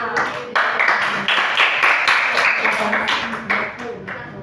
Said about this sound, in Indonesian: Tepuk tangan dulu lah semua.